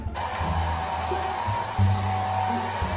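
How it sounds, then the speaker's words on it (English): A handheld blow dryer runs steadily at close range, drying off stained clothing indoors, its continuous motor whir and airflow holding an even level with slight shifts in pitch as it is moved. "We're gonna get the blow dryer and try to dry this off."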